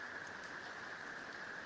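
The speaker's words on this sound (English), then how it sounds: "it's starting to rain really loud again" Heavy rain falls steadily and loudly outdoors, a dense continuous hiss without pauses or voices for the whole short stretch.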